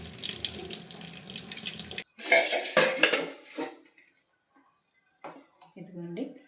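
Cold water poured into a bowl of soya chunks for meal maker pakodi, a close splashing rush over clinking dishes in the first half, then quieter handling with sparse splashes, with talk alongside.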